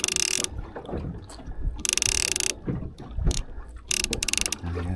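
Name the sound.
fishing reel clicker ratcheting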